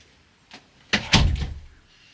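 A room door swings shut in a home workspace: a faint knock, then two solid thuds as it closes and latches, close and fairly loud, followed by quiet.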